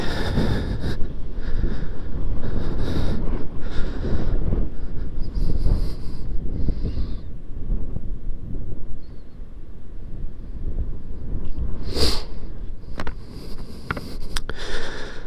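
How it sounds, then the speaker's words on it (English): Wind blowing hard outdoors, a loud rumbling buffet of wind against the microphone with gusts rising and easing, plus occasional brief rustles and sniffs, no speech. "the wind is fairly blowing today"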